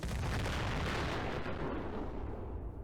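Explosions in the Fallout 4 video game boom out loud and dense, a heavy rumbling blast that stays intense and slowly fades, with no voices over it.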